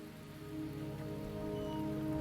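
Rain in Wuthering Waves keeps falling in a steady, even patter of drops on the ground, with a faint tonal music bed beneath it and no talking.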